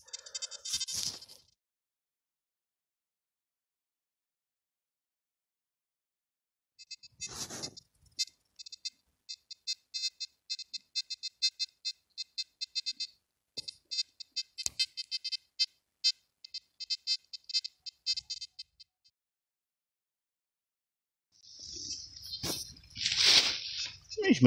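A metal detector gives its signal tone during a field search near Gdańsk: a long run of rapid, high electronic beeps pulsing in short bursts, with brief rustling and handling noises before and after.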